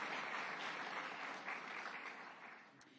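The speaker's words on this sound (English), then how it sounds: "Yes, you can applaud." Applause from a crowd at the White House Tribal Nations Summit fills the space, steady at first and then gradually fading.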